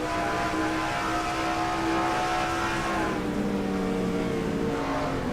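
Race cars circling an oval track in a racing video game, a steady loud engine drone with a gliding pitch that dips as the cars run down the backstretch, continuous without pause.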